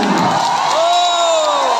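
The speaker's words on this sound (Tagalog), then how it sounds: "malakas na palakpakan may sigawan!" Crowd at a senior citizens' financial assistance event in Pagbilao, Quezon, shouting and cheering loudly, with whoops and a high sustained yell rising above the continuous roar.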